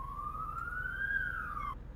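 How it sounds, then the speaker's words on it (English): A police siren in the truck-driving game Euro Truck Simulator 2 gives a single steady wail that rises and falls over about two seconds, then cuts off abruptly over a low engine rumble. "It's the sound of the police."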